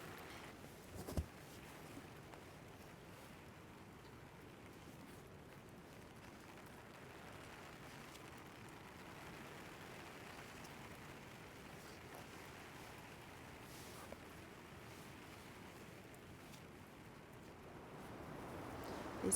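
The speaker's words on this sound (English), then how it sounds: "That is some rain." Torrential rain pours down steadily at a campsite during a storm, a dense continuous hiss with gusting wind, loud and unbroken for the whole stretch with no talking.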